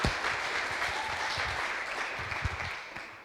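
A church congregation at a worship service applauds in steady, dense clapping that holds evenly for the whole stretch, moderately faint and heard from within the room.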